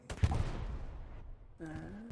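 Gunfire crackles through a chaotic firefight in the World War II shooter Hell Let Loose, a burst of shots at the start fading into a noisy battle wash, with a tonal engine-like drone rising near the end.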